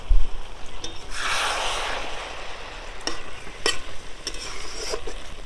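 Cabbage curry cooking in a pan just after water is added, a soft bubbling sizzle and hiss with a louder steamy surge early on and occasional stirring clicks.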